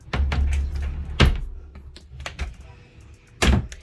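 A drawer in a closet and beauty room slides open with a rumbling scrape, followed by sharp knocks and clatters, close and fairly loud.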